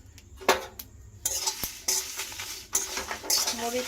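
Dried red chillies and puffed rice frying in a pan for mango pickle, with clattering stirring, scraping utensil knocks and a light sizzle, close and fairly quiet with no talk.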